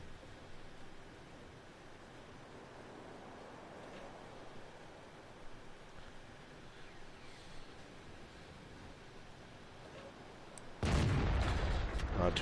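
A tank cannon shot in the video game World of Tanks, fired by a T32 on the Redshire map. It lands as one loud, sudden blast after a long stretch of quiet rumbling ambience, with no talk over it.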